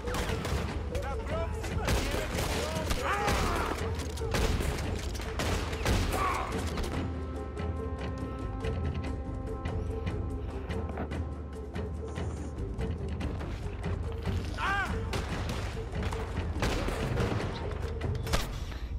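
Rapid bursts of gunfire in Red Dead Redemption 2, loud and close, with volleys of overlapping shots that thin into sparser single cracks before renewed clusters near the end.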